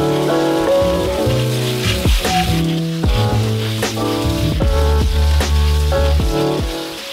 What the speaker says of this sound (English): Then we're gonna water the worms a little bit as well.